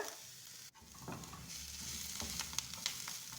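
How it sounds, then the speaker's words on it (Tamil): Ground cumin, turmeric and chilli powder are stirred into hot oil in a pan for an egg curry, a steady sizzle broken by scraping spoon strokes, close and moderately loud with no talking. "நல்லா கிளறி விட்டுக்கோங்க."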